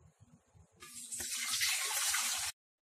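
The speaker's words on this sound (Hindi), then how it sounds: "हम इसमें पानी डाल देते हैं।" Water gushes steadily into a vessel being set up as a steamer for chicken mandi, lasting under two seconds before stopping abruptly; a voice talks briefly before and beneath the pour.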